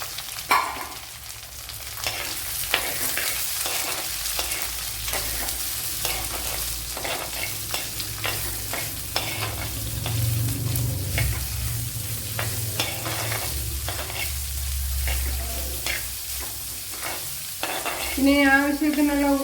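Onion sizzling and frying in a pan with squid, Kerala style, a steady loud hiss broken by repeated stirring scrapes and clatters, with no talking.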